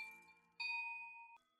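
Two clear, bright chime tones from Minecraft amethyst ring out in the game, each sustaining and fading, the second starting partway through and stopping abruptly.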